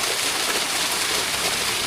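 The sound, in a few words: strong flowing water in a canal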